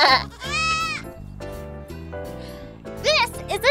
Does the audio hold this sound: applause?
no